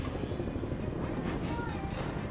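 A helicopter flies overhead in the VR video game Blood and Truth, a steady, droning rotor wash that fills the whole moment at moderate loudness.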